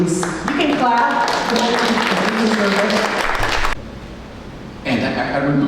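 An audience claps at a panel event, a dense burst of applause lasting several seconds before stopping abruptly, then starting briefly again near the end.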